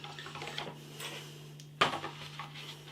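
Metal fork set down onto the lid of an instant rice noodle cup, a single sharp clink against soft background rustling in a quiet kitchen.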